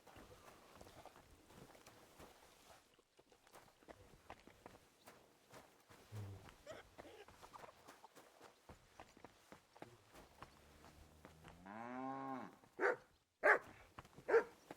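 A dog in the medieval video game Kingdom Come: Deliverance II, with steady footsteps running through the clip and a short whine followed by a few loud barks near the end.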